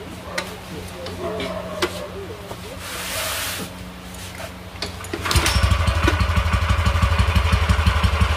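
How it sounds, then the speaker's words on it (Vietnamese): A used Japanese small engine fires up after a start-up test, shifting from clanks and handling noises to a loud, close, steady rhythmic putter of running; someone talks over the early part. "Máy nổ rất là êm nha anh em."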